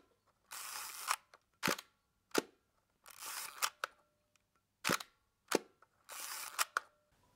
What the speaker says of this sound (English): the click, click, click of my shutter being released